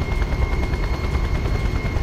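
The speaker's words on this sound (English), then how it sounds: "I'm glad I got a chopper." A helicopter flies in the video game Just Cause, its rotor thumping in a rapid, steady chop under a loud, constant engine roar throughout.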